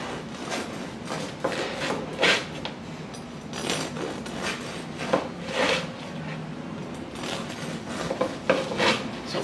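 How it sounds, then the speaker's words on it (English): A 10-inch serrated bread knife saws through a crusty baguette in repeated rasping strokes, each pass a dry crackling scrape of crust with brief pauses between, close and fairly loud with no voices. "next we're going to take a crusty baguette, see how the knife performs on that"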